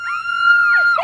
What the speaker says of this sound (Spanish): El grito de los del Barça.